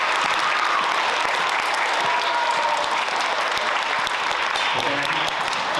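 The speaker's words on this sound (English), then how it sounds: "we're gonna have a huge round of applause for our fourth and fifth grade" Loud, dense applause from a school band concert audience cheering fourth and fifth grade teachers, steady sustained clapping filling the room throughout.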